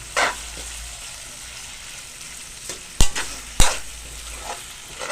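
Spaghetti sauce with hotdog and ham is stirred in a pan, a soft close sizzle with scraping sweeps and two sharp knocks of the utensil against the pan near the end.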